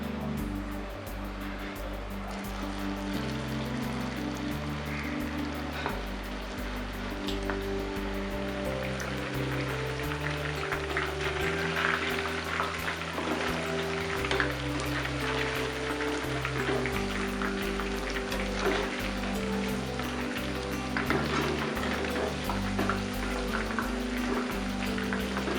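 Prawns deep-frying in a pan of oil for a crispy Koliwada starter, giving a continuous, even bubbling hiss with steady fine crackle that holds evenly for the whole stretch.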